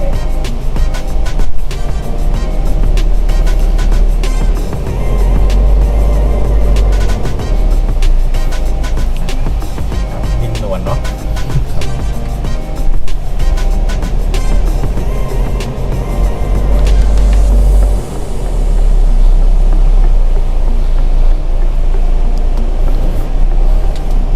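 An Isuzu 4x4 pickup creeps slowly in first gear over an off-road test track, its engine a steady, loud low rumble that runs continuously throughout with no voices.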